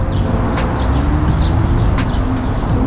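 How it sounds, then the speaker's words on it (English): Birds chirping at a distance along Riverside Drive on Manhattan's Upper West Side, short repeated calls over a steady loud roar of traffic or wind. "you hear the birds and everything"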